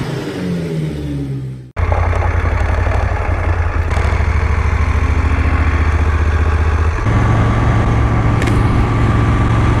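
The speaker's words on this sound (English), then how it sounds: "it's a warm, round sort of cami sound, and a lovely deep throb" A Moto Guzzi Griso 1200 motorcycle idles while warming up after a quick blip, giving a steady, loud, deep throbbing rumble with a slight shift in pitch partway through.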